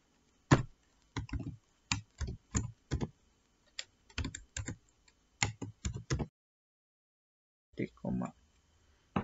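Code typed on a computer keyboard as a series of crisp, close key clicks in quick bursts, pausing for about a second before a final short run of keystrokes.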